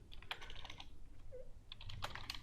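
Keystrokes on a computer keyboard as a comment is typed, a quick uneven run of close, light clicks in short bursts with a brief pause midway.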